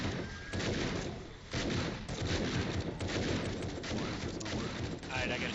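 Rapid gunfire aimed at a charging demolisher zombie during a horde night in a video game, a dense barrage of shots and booms with a player talking over it.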